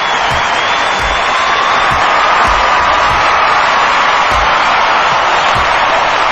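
A crowd roars and cheers continuously at a Battlefront wrestling match, with loud broadband noise, scattered whoops and periodic sharp thuds or slams punctuating the din throughout.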